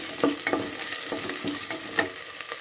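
Onion with grated ginger and green chili frying in a pan, a continuous sizzle broken by several distinct stirring scrapes and clinks of a utensil at a steady, unhurried pace, close and with no voices.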